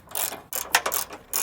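A ratchet wrench removes 13 mm bolts from a Ford ST170 car in short bursts of fast clicking, three close separate runs with brief pauses between them.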